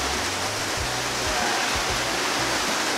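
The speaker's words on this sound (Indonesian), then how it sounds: "tadi tiba-tiba hujan deras dan nggak memungkinkan untuk melanjutkan perjalanan" Heavy rain pours down on the slopes of Mount Salak, a dense, loud, steady wash of noise with no breaks, close and enveloping.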